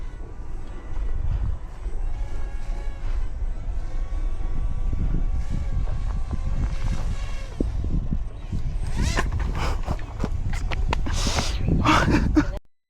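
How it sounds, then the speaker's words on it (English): A 3D printed RC flying wing flies while oscillating and nosediving, its motor whine rising and falling in pitch. Gusty wind buffeting grows into loud rushing bursts toward the end. "the aircraft continues to oscillate and nosediving at random, which makes it really difficult to fly"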